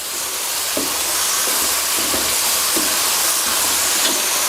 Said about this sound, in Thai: ผัดให้โดนความร้อนทั่ว ๆนะครับ